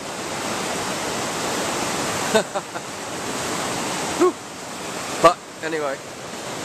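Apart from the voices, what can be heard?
raging high river water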